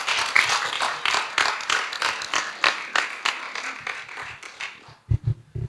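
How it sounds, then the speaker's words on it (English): An audience applauds after being asked to give a round of applause, a dense patter of hand claps from a crowd that swells and then thins out, ending in a few scattered, louder claps. "Shall we give her a round of applause?"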